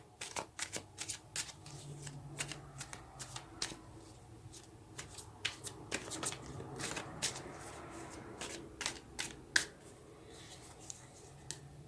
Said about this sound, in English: now this first row of cards that we are going to take